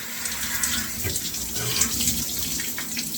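Cold shower water runs steadily, a continuous close hiss and patter of spray with no pauses.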